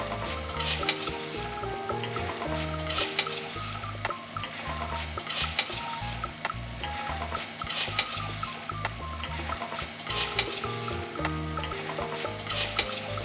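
Tomatoes sizzle and fry in a kadhai for mutton bhuna while a spoon scrapes and stirs in a steady repeating rhythm, with sharp clinks of metal over continuous crackling.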